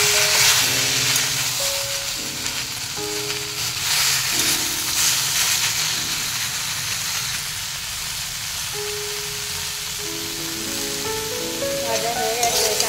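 Elephant apple (chalta) pieces with turmeric and salt fry in a pan, giving a steady, close sizzle and hiss that runs throughout, with soft stirring scrapes and a faint background tune.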